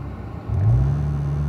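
Cars in a lead-follow group begin to roll slowly, a low engine rumble that swells after a brief lull into a steady, close drone.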